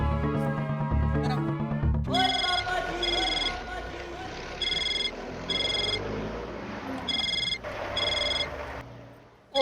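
A telephone rings in repeated electronic bursts, loud and close, after a short stretch of music and voices at the start.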